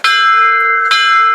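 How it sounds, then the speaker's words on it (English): A large, resonant bell is struck twice, each strike ringing out loud and sustained, with the second hit landing just under a second after the first. "Stacy, would you like to ring the bell before you leave?"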